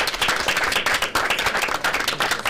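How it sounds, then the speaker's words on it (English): An audience at a student academic competition breaks into applause, a dense burst of clapping that runs the full couple of seconds with no one speaking. "give yourselves another round of applause"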